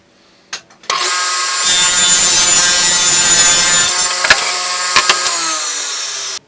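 A saw cuts through a wood board to an 18-inch width: after a couple of light knocks, a loud, steady cutting roar runs for about five seconds and then trails off, with a few sharp clicks near the end.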